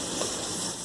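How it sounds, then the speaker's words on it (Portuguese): Bacon frying in a pan on a home stove, a steady close sizzle and hiss with no other sounds over it. "Aqui, ó, já tô fritando bacon."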